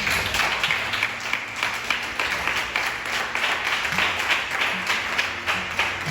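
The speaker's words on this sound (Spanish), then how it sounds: "¿Alguien le da un aplauso al Señor?" A church congregation applauds the Lord during a sermon, a sustained, fairly close wash of many hands clapping that runs steadily throughout, with no voices heard.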